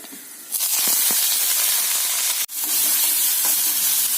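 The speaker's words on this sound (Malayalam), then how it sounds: "കടുക്, ഉലുവ ഒക്കെ പൊട്ടി." Mustard seeds and fenugreek spluttering in hot oil, a loud, close, hissing sizzle that swells suddenly, drops out for a moment, then returns just as strong.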